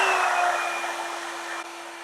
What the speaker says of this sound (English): I think it's pretty similar to most hair dryers I've heard before